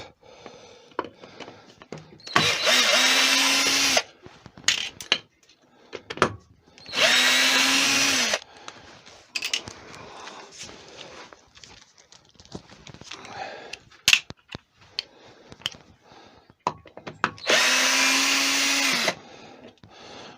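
A power drill drives star-bit screws into a wood-turning faceplate in three loud whirring bursts, each winding down as the screw seats, separated by quiet handling clicks and knocks.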